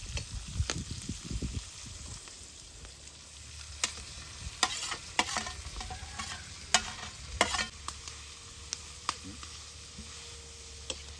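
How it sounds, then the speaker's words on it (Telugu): Goat tripe (boti) frying in oil outdoors for a village feast, a steady close sizzle with sharp scraping and clattering stirs scattered throughout, with a brief low rumble at the start. "కొంచెం ఆయిల్ ఇది కొంచెం వేగండి"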